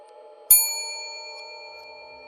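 A hotel front desk bell gives a single bright, ringing ding that decays slowly over a couple of seconds above a faint steady hum, with no voices.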